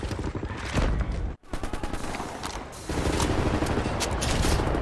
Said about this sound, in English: Right, lads, you ready to lay down suppressor fire?